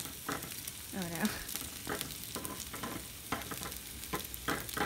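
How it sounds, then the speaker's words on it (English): Broccoli stir-frying in a pan, a steady sizzle with scraping and clacking stirring strokes and a few squeaky utensil sounds scattered throughout, close and fairly clear. "Now let's stir fry."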